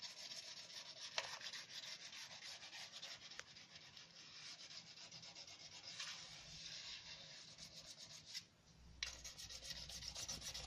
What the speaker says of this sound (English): again we're going to remove them with the slipstone